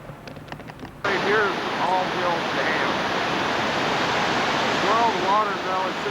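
Floodwater from heavy northern rains pours over All Hills Dam near Valley City during the 1993 flood, a loud, continuous broadband roar that bursts in after a quieter second and holds steady, with faint voices underneath.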